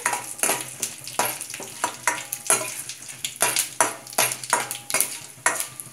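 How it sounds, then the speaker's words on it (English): Red chilies frying in hot oil on a low flame alongside tempered mustard seeds, urad dal and chana dal for poha upma, with a steady sizzle broken by rhythmic, close scraping strokes of a spoon stirring in the pan. "Now I'm going ahead and adding my red chilies also."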